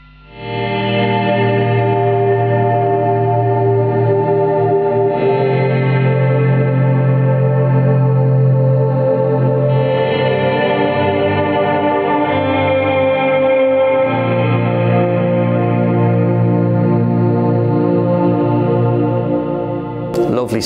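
An ambient electric guitar plays slow volume swells through chorus, delay and reverb, with shimmering sustained chords fading in and out in long waves and overlapping echoing tails, loud and close throughout.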